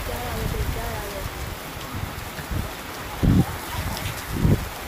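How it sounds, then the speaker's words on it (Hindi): Heavy monsoon rain pours steadily in a dense hiss over Multan, Pakistan, with a few thuds and faint voices in the background. "बारिश बहुत ज़्यादा तेज़ हो रही है।"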